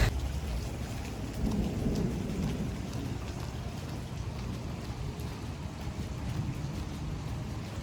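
Heavy rain pours in a dense, unbroken roar with low thunder rumbling beneath it, steady and close throughout, with no voices.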